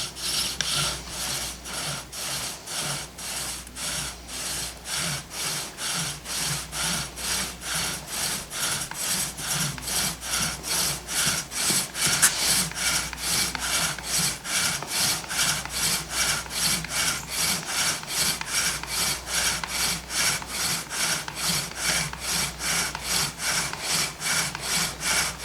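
A wooden bow drill spindle rubbing rapidly against a wooden board, giving a steady rhythmic rasping back-and-forth grind that keeps going for the whole stretch, close and even, with no talking.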